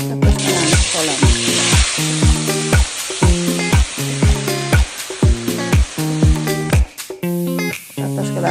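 Potatoes frying in hot oil in a cauldron give a steady, bright sizzle, with a rhythmic musical backing playing loudly over it throughout.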